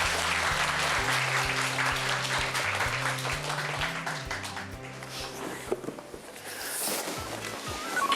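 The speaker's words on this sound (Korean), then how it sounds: "다시 한번 박수" Applause in a company office welcoming new employees at a K-pop agency headquarters, steady and sustained over a low rhythmic background beat, tapering slightly toward the end.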